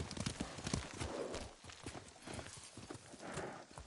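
Horse hooves clip-clop steadily in Ghost of Tsushima, a brisk rhythmic patter of hoofbeats at close range over game ambience with no talk.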